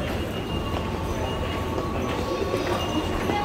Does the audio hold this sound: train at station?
yes